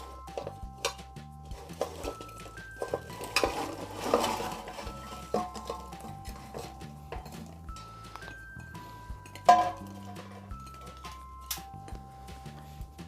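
Fried gulab jamun balls added and stirred into sugar syrup in a metal pot, with repeated clinks and scrapes of a spoon against the vessel and one sharper knock near the end, no talking.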